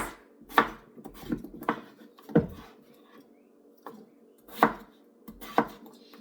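Knife chopping potatoes into very small pieces on a cutting board, a series of sharp, close, irregular chops with short pauses between them, no talking.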